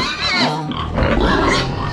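Two young pigs on a farm grunt and squeal up close, loud overlapping snorts and oinks in quick irregular bursts.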